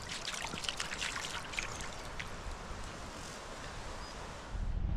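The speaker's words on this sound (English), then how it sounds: "we get to walk along this lovely little stream with plenty of water" A small stream of water flows with a steady soft trickle and rush outdoors, moderately close, with wind rumble over the microphone near the end.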